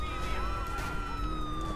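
Police siren wailing in the video game Grand Theft Auto IV, a continuous rising and falling electronic tone that stays steady and fairly loud throughout.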